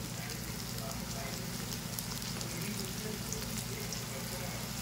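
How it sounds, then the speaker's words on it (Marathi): Tomato and onion frying in a pan, giving a steady, even sizzle and hiss that runs unbroken from start to finish, close by and moderately loud, with no talking heard. "आपण टोमॅटो आणि कांदा घालून घेऊया। आता हा छान परतून होऊ दे"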